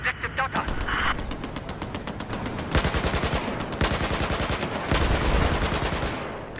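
Machine gun fire in Battlefield 4, long rapid automatic bursts with steady rhythmic shots, loud and close, broken by brief pauses, with a voice speaking over part of it.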